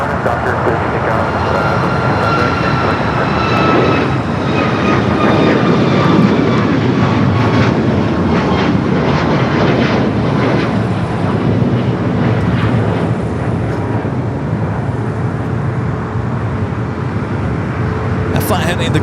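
A United Boeing 737 MAX 8 takes off from Los Angeles airport bound for Cleveland, Ohio, its engines producing a loud, steady roar with rising whine tones throughout, while a voice talks over it.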